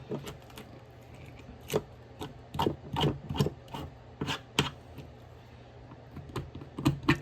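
A knife scrapes along a sunfish skin being prepared for taxidermy, giving irregular dry rasping strokes, some quick and clustered, heard close and alone over a low steady background hum.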